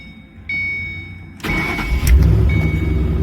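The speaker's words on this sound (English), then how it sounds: "car runs and fires up like it's supposed to" A car engine cranks and fires up after the ignition key is turned, a brief click and whir before a sudden loud catch at about a second and a half, then a steady, rumbling idle close by.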